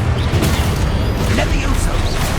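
Confringo fire spell blasts in Hogwarts Legacy, dense booming rumble and crackle filling the sequence, loud and close, with combat noise layered continuously.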